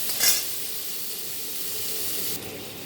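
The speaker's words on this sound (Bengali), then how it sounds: "আলুগুলো এরকম লাল লাল করে ভেজে নেবেন বন্ধুরা।" Potatoes fry in hot oil for beresta khichuri, a steady close sizzle with a sharp stirring scrape near the start and a brief rise in hiss near the end.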